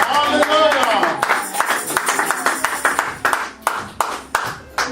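A church congregation breaks into steady rhythmic clapping, the sharp claps repeating in a lively beat after a brief stretch of voices at the start.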